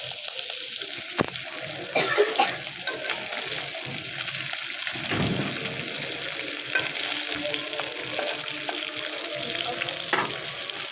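Mixed fish frying in a pan with oil, a steady broad sizzle running throughout with occasional clinks and stirring knocks, close and fairly even in loudness with no talking.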